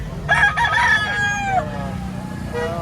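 A rooster crows once at a chicken auction in the Philippines, a loud, drawn-out call rising and falling over steady crowd murmur and low background rumble.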